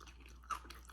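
Crispy homemade lemon pepper honey wings bitten and chewed close to the mic, a faint crunch with one sharper crackle midway, quiet and brief.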